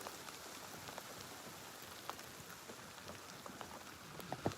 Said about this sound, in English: So we got a steady rain happening right now